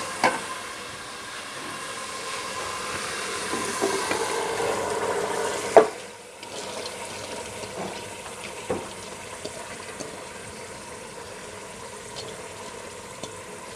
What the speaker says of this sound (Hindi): हाई फ्लेम पे मैं दाल को 5 मिनट भूनूंगी